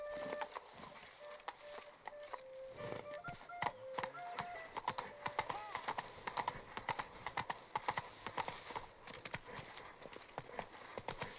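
Roach the horse galloping in The Witcher 3, rapid rhythmic hoofbeats clopping steadily and fairly close throughout, with a few faint jingling tack sounds and no talk.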